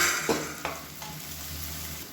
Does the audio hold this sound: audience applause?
no